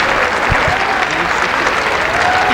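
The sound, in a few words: crowd applauding at women's wrestling championship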